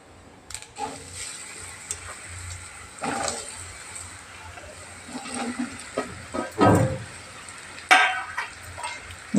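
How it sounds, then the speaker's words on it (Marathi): Kalnachi vadi tempered with white sesame seeds in hot oil makes an uneven sizzle and crackle, with scraping stirs and clatters of a spatula against the pan growing busier toward the end. "तीळ जरा परतले की त्यावर आपण आता ही वडी टाकणार आहोत फोडणीला"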